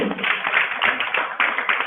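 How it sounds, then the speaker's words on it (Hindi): An audience at a religious discourse claps hands in a loose, uneven patter of taps that rises and falls in short bursts. The sound is fairly close and band-limited, and no one speaks over it. "ताली बजाओ"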